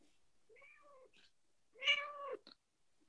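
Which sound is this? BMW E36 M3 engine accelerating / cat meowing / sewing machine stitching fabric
cat meowing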